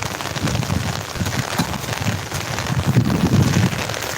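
Heavy rain pouring down steadily, a dense hiss of drops on surfaces with gusty wind noise, loud and close, no voices.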